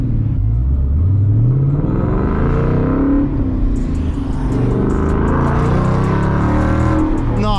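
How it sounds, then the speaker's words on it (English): A loud Ford Mustang GT 5.0 V8 with an MBRP race exhaust burbles and rumbles through a series of sharp revving downshifts, close by, with crackling pops toward the end. "Guys, listen to these downshifts, look."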